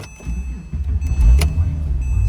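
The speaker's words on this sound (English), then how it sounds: "Starts up, goes through its regular little" A 2006 Porsche 911 engine starts up, a steady low rumble building and holding close by, with a brief higher whir partway through and no talk.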